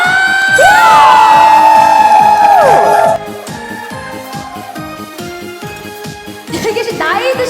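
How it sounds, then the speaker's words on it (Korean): Audience at a mini concert cheering and shouting loudly with excited whoops, dropping after about three seconds to a lower crowd murmur with scattered shouts and claps that swell again near the end. "함성"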